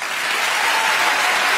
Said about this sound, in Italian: Qui c'è un pulsante per gli applausi del pubblico